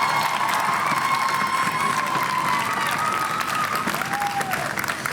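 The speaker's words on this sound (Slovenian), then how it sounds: "En aplavz za obe ekipi." A school audience at a quiz show between two primary schools applauds both teams, a dense, steady burst of clapping with some children's shouts mixed in, close and sustained.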